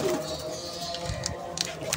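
A pet dove cooing softly in a home setting, a low, gentle throaty murmur held over about two seconds, close by, with faint clicks and household noise around it.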